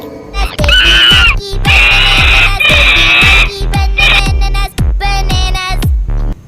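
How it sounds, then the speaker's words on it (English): A monkey screeches in a children's alphabet song, giving a series of loud, shrill, sustained cries over a thumping musical beat that repeats through the passage. "M for monkey"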